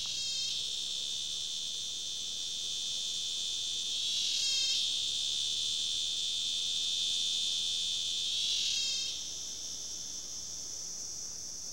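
A cicada calls in a hot, dry, thorny forest: a loud, close, steady high-pitched buzz that swells into three pulsing surges at regular intervals. No voices.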